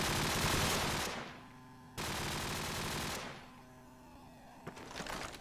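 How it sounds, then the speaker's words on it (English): Automatic weapon fire in a competitive shooter game match, two long loud bursts of rapid gunfire separated by brief pauses, then quieter clicks and shots. "Raps takes out Diora, but in2ition with the revenge frag."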